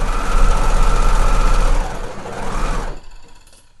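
Sewing machine stitching a sweatshirt underarm and side seam in one pass: a loud, fast, steady mechanical whirr with a low rhythmic knock that slows and stops near the end.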